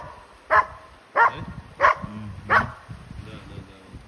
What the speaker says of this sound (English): it refused to back down and barked at the predator